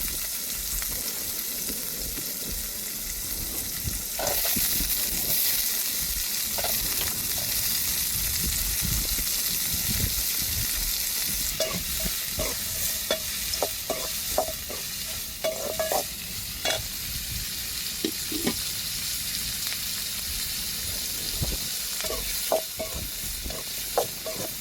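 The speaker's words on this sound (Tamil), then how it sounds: "இப்போ பெரிய வெங்காயத்தையும் சேர்த்துக்கிடுவோம்." Sliced onions fry in a hot pan for a South Indian pepper rasam and liver gravy meal. A constant sizzle is broken by repeated scraping stirs of a spoon against the pan.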